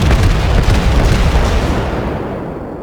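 A heavy naval gun firing during a World of Warships battle with a New Mexico battleship, a loud broadband boom that rumbles and decays slowly over about three seconds, with no talk.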